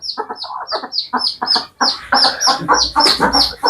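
Chickens on a farm cluck continuously at close range, with rapid, overlapping clucks and calls from several birds and no talking.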